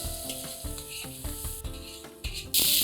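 Finely chopped onions fry in peanut oil and butter, giving a steady sizzle partly masked by tonal music with rhythmic beats, then a louder burst of hiss at the very end.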